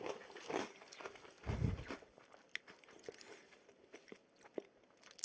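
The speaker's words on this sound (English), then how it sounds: "As you could probably hear, it's very crunchy." Crunchy bites and chewing of a freeze-dried, space-style vanilla ice cream snack, heard close up with a heavy crunch near the middle and lighter chews after.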